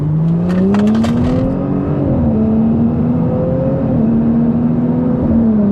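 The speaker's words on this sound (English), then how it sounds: "So when I get onto this freeway on-ramp here, I'll try and floor it for you guys" A Stage 2 Audi S4 at full throttle up a freeway on-ramp, heard from inside the cabin as a loud, steady engine drone rising in pitch, with a brief dip at a gear shift.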